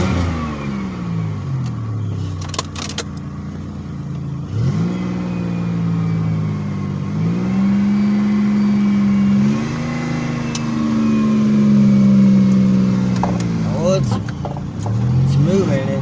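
A 2006 Pontiac Grand Prix engine revs as the car pulls away, rising and falling through several long swells, close and steady, with outdoor noise and some clicking around it.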